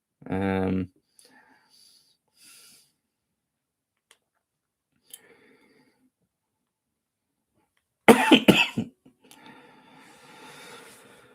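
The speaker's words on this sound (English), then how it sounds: "I've got a horrible cough" A single harsh cough from a man with a bad cough, close and loud, then a long quiet stretch with faint clicks before a burst of noisy voice-like sound near the end.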